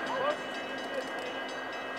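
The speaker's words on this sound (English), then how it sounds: "the final Ringling Brothers and Barnum & Bailey circus train to Atlanta passed through Lula just before last light" The final Ringling Brothers and Barnum & Bailey circus train passes through Lula, Georgia, as a steady, moderately loud rumble of rolling rail cars with a brief higher tone near the start.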